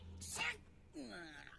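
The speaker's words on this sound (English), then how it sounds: "You sneeze, that means somebody's talking about you." An anime character gives a short, breathy sneeze, quiet and close, followed by a brief voiced sound.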